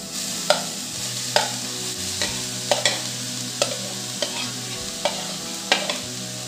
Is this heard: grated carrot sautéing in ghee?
yes